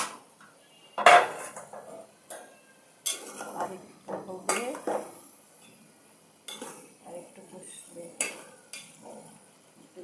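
A spoon stirs rui fish curry in a pan with vegetables, giving a series of separate clanks and scrapes of metal on metal with brief quiet gaps between them, close by.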